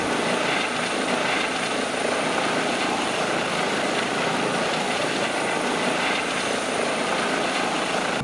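Simulated EC135 helicopter in a flight simulator game, heard as a steady, loud rotor and turbine roar that holds level throughout while ascending above a tree line, with no talking.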